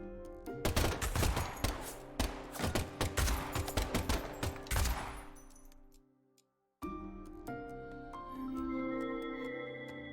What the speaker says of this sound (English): the last gunshot we heard sounded ominous, Zach